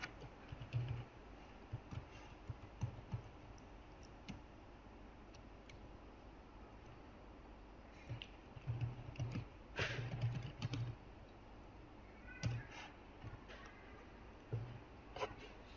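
Fingers tap on a computer keyboard in short irregular clusters of quiet clicks, with pauses between bursts and a faint room hiss behind them, close up and without talk.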